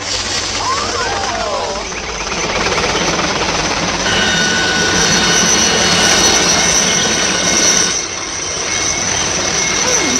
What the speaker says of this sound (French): J'interdirais moi aux hélicoptères de survoler les zones résidentielles.